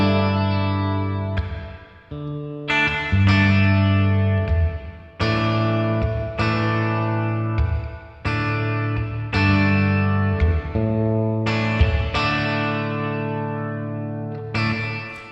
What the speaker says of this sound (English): So here's just the reverb on its own.